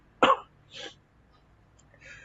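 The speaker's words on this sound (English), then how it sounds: "Excuse me, and cough, got a bit of a cold." A single sharp, close cough bursts out, followed by a softer throat sound and a faint breathy noise.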